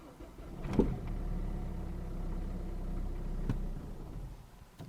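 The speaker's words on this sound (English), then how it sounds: "So let's try and start the car." A Renault Megane II dCi diesel engine is cranked and catches briefly with a low rumble and a sharp onset, runs unevenly for a few seconds, then dies away, close and fairly quiet.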